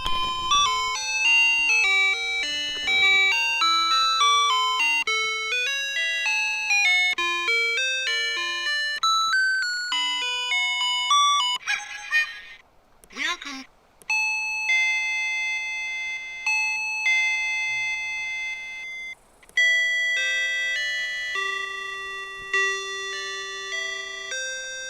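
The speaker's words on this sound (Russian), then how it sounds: "Кнопкой на плате можно выбрать тип мелодии для боя часов." A homemade wall clock with a circuit board plays a chime melody of bright, bell-like electronic tones in a clear stepwise tune, pausing briefly partway through before resuming, close and alone.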